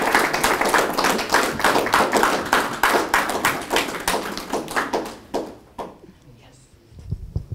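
Audience applause after a civil rights symposium presentation: dense, steady clapping from a crowd fills the room for about five seconds, then thins to scattered claps and fades out.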